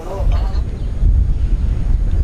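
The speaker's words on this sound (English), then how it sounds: "it's getting a bit windy. There's a strong poniente wind that's come along" A strong poniente wind blows at a beach and buffets the microphone with a continuous, heavy, low rumble that rises and falls in gusts. A faint voice shows briefly at the start.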